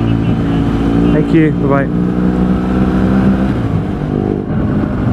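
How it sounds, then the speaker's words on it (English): A motorcycle rides along wet mountain roads in the South of France, with a loud, steady engine drone and wind roar throughout and a voice speaking briefly over it. "right now I'm riding a motorcycle"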